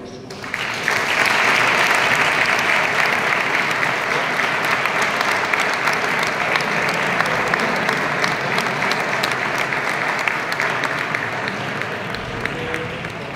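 A large audience applauds at a Holy Week presentation of a brotherhood marching band in Segovia, the clapping swelling quickly and holding loud and dense, then easing slightly near the end, with a faint voice mixed in.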